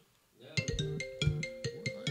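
A phone ringtone for an incoming call plays as a repeating melodic pattern of short tonal pulses, each note struck roughly every quarter second, moderately loud and close.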